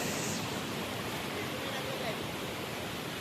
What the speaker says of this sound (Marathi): पाण्याचा फ्लो जास्त आहे